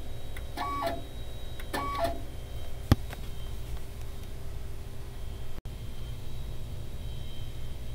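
A robotic valve repair unit advancing a valve, giving two short whirring motor bursts a second apart, then a sharp click, over a steady low background hum.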